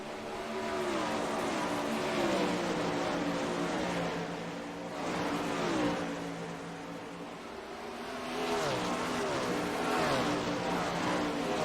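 410 Sprint Cars race around Eldora dirt oval in a sim racing game, engines droning at high revs, rising and falling in waves as cars sweep through the turns, with no voices.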